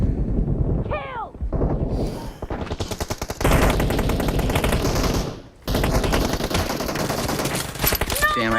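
Dense, continuous automatic gunfire and shots fill a PUBG Mobile match, loud and close with rapid bursts, briefly broken by a short gap, while a player's voice talks over the start.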